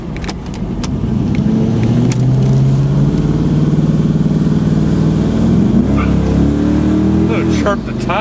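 A 1992 Oldsmobile Custom Cruiser station wagon with a stock LS engine swap accelerating uphill, its engine note rising loud and close for several seconds, with a tire chirp and occasional voices inside the car.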